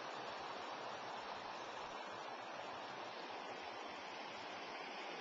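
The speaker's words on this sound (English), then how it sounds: "This here creek where we take our water out." A mountain creek flows at an irrigation head gate, a steady rushing wash of water that stays even and faint throughout, with no voices.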